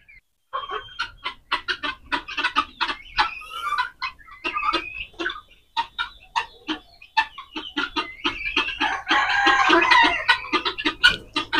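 Desi village hens kept for eggs alongside grey francolins cluck in rapid, uneven bursts, close and fairly loud, several birds overlapping and growing busier toward the end, with no talking.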